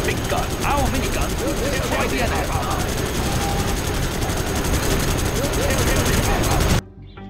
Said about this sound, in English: I'm carrying the big gun. Our mini gun.